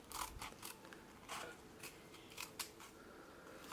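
Scissors snip through felt for a moccasin, a quiet series of crisp, irregular cuts close by with short pauses between them.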